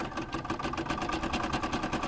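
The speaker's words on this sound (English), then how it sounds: "this is a combination sewing and embroidery machine" A combination sewing and embroidery machine runs, a fast even mechanical stitching rattle with a steady rhythm, fairly quiet and with no voices.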